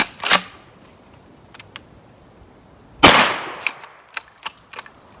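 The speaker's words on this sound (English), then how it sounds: "I'm just going to try maybe a buckshot round over here and then a couple over here, and then try to hit this one with the slug" A 12 gauge shotgun loaded with Aguila minishells, buckshot and slug fires two sharp, loud blasts about three seconds apart outdoors, each followed by fainter clicks and clatter of the action cycling.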